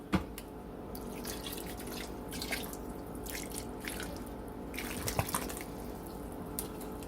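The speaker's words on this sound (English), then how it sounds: "I'm just going to add this 8-ounce bottle in there." Apple juice poured from an 8-ounce bottle into a slow cooker for a honey mustard chicken dish, a steady close-up trickle and splash of liquid with no talking.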